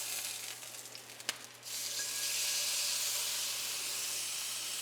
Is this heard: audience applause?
no